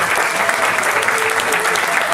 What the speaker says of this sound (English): Round of applause, our two pianists tonight.